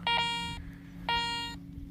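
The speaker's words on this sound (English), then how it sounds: "I'm getting a bunch of different beeps" A metal detector sweeping along the Port Burwell shore gives two distinct, loud, buzzy beeps about a second apart, each lasting half a second, over faint background hum.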